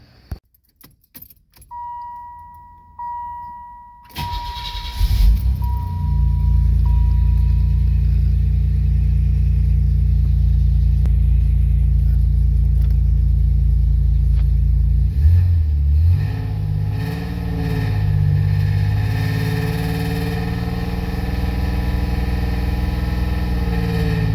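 A 1987 Chevy Celebrity Eurosport starts up after keys jingle, its engine swelling to a loud, steady high idle, then dropping and settling after a brief rev change, close by and without talk.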